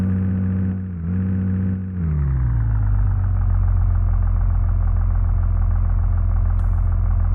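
A car engine in the Virtual Driving School game drones steadily and loud as the car drives, with two brief dips in revs early on before settling into a constant, even hum.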